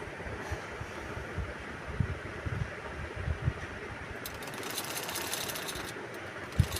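A sewing machine stitches a side seam on a kurti, a soft continuous whirring with a few louder clunks, close by.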